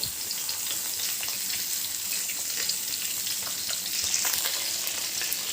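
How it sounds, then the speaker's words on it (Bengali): Pointed gourd (potol) frying in oil in a kadai gives a steady, close, even sizzle with faint crackles, continuing alone without pause. "দেখো সমস্ত পটলটাকে আমি কড়াইয়ের মধ্যে দিয়ে দিয়েছি ভাজার জন্য।"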